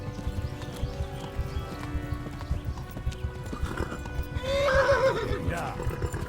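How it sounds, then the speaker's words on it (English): A horse gallops with rapid, rhythmic hoofbeats in the medieval game Kingdom Come: Deliverance, then lets out a loud neigh near the end, while battle shouts and voices play underneath. "The horse is losing stamina."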